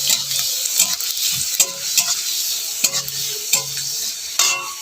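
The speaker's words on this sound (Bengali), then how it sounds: "রসুন হালকা লাল হয়ে গেলে পেঁয়াজ দিয়ে দেবো" Chopped garlic and onion frying in oil while being stirred, a loud continuous sizzle broken by repeated scraping strokes of a spoon against the pan, no talking.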